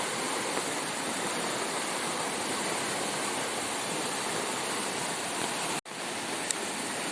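Floodwater of Dogura Creek rushing in a steady, loud, broadband roar that holds constant throughout, with one brief dropout near the end and no voices.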